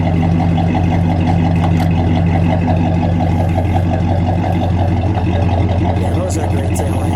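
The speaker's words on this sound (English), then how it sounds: "This sounds like a woody boat with a big V8 in it." A 1969 Buick Electra 225 with a 430 cubic inch V8 idles nearby, a loud, steady, deep burbling rumble with a fast throbbing pulse, while people talk over it.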